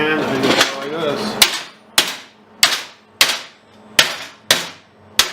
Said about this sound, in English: So now I just kind of tap on it or bend it in my vise.